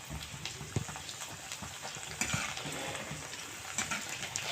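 Pani puri dough balls frying in hot oil, a steady, busy sizzle and crackle with scattered bubbling pops and occasional stirring clinks, close and continuous throughout.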